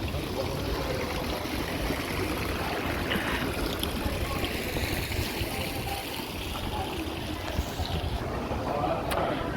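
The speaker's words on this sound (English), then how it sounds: "The water sound comes from here." Flowing water near Central Railway Station in Haymarket, Sydney, rushes in a dense, continuous wash, mixed with outdoor city background noise, with no clear speech over it.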